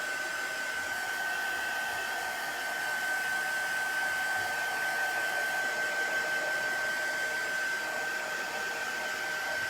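A hair dryer blows continuously close by, a steady whooshing roar with a thin high whine, drying chalk paste on a craft piece with no talk over it.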